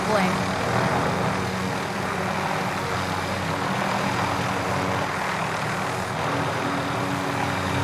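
Propeller plane engine from Call of Duty Warzone Pacific, a steady loud drone running throughout with game sounds and radio-style voice lines over it.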